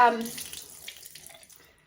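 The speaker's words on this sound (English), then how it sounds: "put my flannel under warm water" Warm water runs from a bathroom tap onto a cloth flannel held beneath it, a steady splashing rush that starts loud and tapers off quickly over a couple of seconds.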